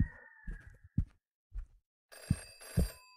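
A telephone rings inside a horror video game, two bursts of a bright, tonal electronic ring near the end, preceded by faint thuds and low rumbles in an otherwise quiet scene.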